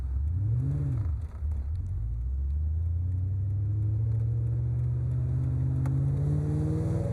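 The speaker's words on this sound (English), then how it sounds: "Listen to that exhaust." A 1996 Mustang Cobra's exhaust revs, then roars steadily higher as the engine accelerates, loud and close with no talking.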